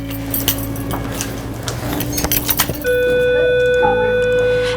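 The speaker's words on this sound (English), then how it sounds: "As the bell signals the start of a new day" Amid clattering and faint background murmur, an electronic school bell rings out in a sustained, steady tone for a couple of seconds, loud and clear.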